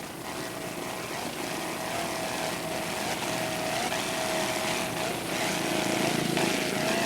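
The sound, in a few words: offshore racing powerboat engines throttling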